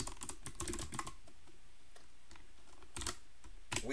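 Rapid typing on a computer keyboard, close and fairly quiet, coming in bursts of clicking keystrokes with a short pause in the middle and no talking.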